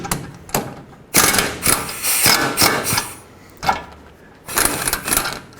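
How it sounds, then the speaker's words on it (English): An 18mm socket ratchet clicks rapidly in uneven bursts while loosening caliper bracket bolts on a 2014-2018 GMC Sierra rear brake, close and fairly loud, with short pauses between strokes. "Now take an 18mm socket and remove the two caliper bracket bolts."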